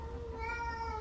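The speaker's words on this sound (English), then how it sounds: "I'm sorry, that's my cat." A pet cat meows in a complaining, drawn-out cry lasting about a second, fairly close and alone with no talk over it.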